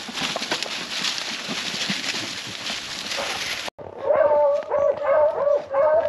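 Beagles bark and bay in bursts while hunting a rabbit in a large brush pile, with some howled notes carrying over rustling brush; a cut midway leads to louder, closer baying that goes on to the end.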